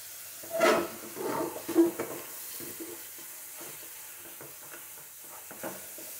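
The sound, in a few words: spice paste being fried and stirred in a pan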